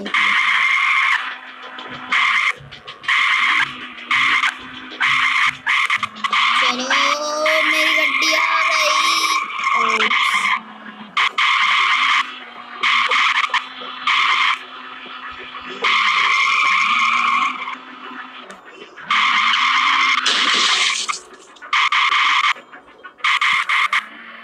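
A car driving and skidding in the Ice Scream video game, with repeated bursts of tire squeal and engine drone across the stretch, broken by brief pauses.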